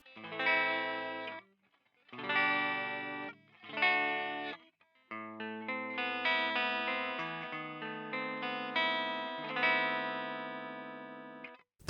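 An Epiphone Les Paul on its neck pickup plays through the clean channel of a Crab Marcus III pedal: sparkly clean chords strummed in three short bursts, then a steadier run of ringing chords and picked notes, close and alone.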